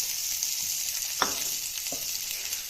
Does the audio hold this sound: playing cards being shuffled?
no